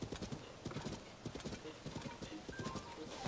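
Horse hooves gallop in Zelda Tears of the Kingdom, a fast, steady clip-clop rhythm running throughout at close range, with a person talking faintly under it.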